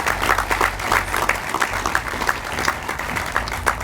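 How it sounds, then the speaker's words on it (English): Applause from a crowd gathered at a groundbreaking ceremony for Rodney Cook Sr. Park, dense steady clapping lasting throughout with a low rumbling undertone, fairly close and loud. "Please give them a round of applause."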